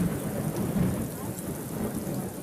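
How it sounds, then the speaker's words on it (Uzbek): Heavy rain pours down steadily with rumbling thunder rolling underneath, a dense, continuous storm wash close by with no voices. "Yomg'ir yog'yapti."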